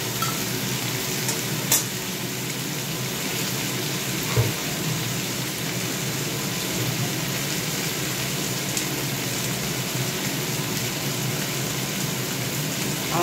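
Prawns frying with spices in a pan, a steady broadband sizzle running throughout at moderate level with a few faint utensil clicks and no talk.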